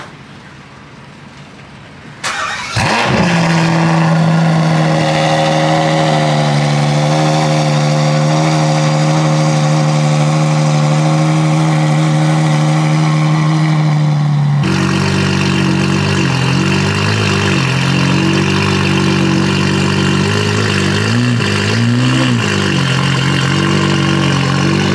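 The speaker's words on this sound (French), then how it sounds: "il va faire le petit démarrage à froid qui va bien. Tu vas voir le bordel que ça fait" A Ferrari 812 GTS cold start: the starter catches and the V12 bursts into a loud, close roar, then settles into a high, steady fast idle before dropping to a lower, lumpier idle with small blips, and no talk.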